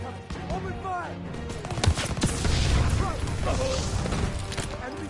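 Dense World War II battle gunfire from Call of Duty WWII, with overlapping rifle and machine-gun bursts under shouted voices and a persistent low rumble throughout.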